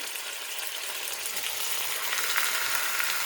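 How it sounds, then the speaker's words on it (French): Meat searing in hot oil over high heat in a pan for a tagine with peas and artichokes, a steady dense sizzle that swells slightly louder toward the end, no voices. "on va saisir notre viande pendant 10 minutes"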